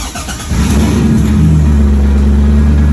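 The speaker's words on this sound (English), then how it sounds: "we're gonna start the car" A car engine cranks, catches, then revs up into a loud, steady mid-pitched roar that holds close and strong to the end.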